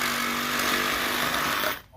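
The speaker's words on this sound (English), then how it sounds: "Take your Sawzall," A Sawzall reciprocating saw cuts through wood for a lake or pond fish habitat build, a loud, steady buzzing roar up close that holds for almost two seconds, then cuts off abruptly.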